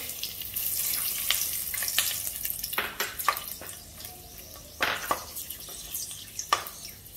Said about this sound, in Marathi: आता ह्यामध्ये मी अख्खा गरम मसाला घालते